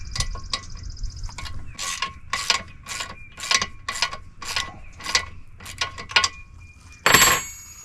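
Ratchet wrench backing a bolt out on a Kubota BX23S backhoe, a quick run of evenly spaced metallic clicking strokes up close, ending in a louder clank.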